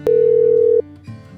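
Electronic telephone ringing tone effect in a Marathi audiobook drama: one long steady beep lasting most of a second, a short pause, then the next beep starting, clean and close.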